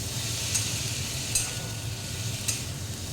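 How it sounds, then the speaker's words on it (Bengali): A potato and pumpkin curry, just sweetened with a little sugar, stirred in a pan: a continuous low sizzle and bubbling, with three brief scraping strokes of a spoon spaced about a second apart, near and steady, without voices. "ভালোভাবে নাড়াচাড়া করে নিয়ে"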